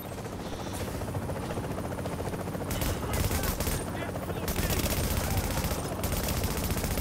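Sustained automatic gunfire in The Division video game, loud and continuous, with a steady roar underneath and rapid bursts throughout.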